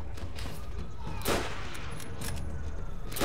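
A single gunshot in the World War II shooter Call of Duty: World at War, a sharp crack about a second in, set against ongoing game ambience and faint scattered noise.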